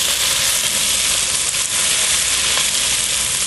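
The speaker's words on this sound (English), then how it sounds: "we'll just saute those up" Mushrooms sauté in a hot pan for beef stroganoff, giving a loud, dense, continuous sizzle close up with steady crackle and no voices.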